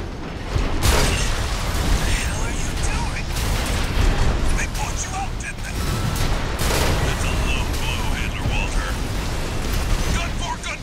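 Continuous heavy gunfire and booming blasts from dam gun emplacements in the Armored Core 6 video game, a dense roar of explosions and mechanical clatter with a few louder bursts, running throughout without letup.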